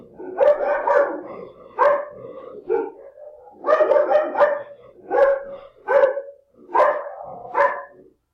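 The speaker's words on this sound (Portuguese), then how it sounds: "Tem um cachorro latindo aqui." A dog barking repeatedly nearby, loud sharp barks in irregular bursts of one to three with short pauses between, no talking over them.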